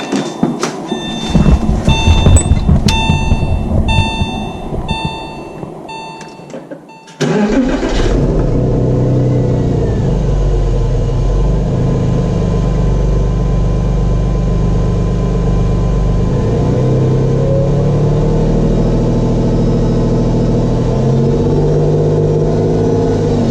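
A 1999 Porsche 911 cold-starts: a whirring crank with a high whine, then a sudden catch into a loud, steady idle that drones on without letup, close up.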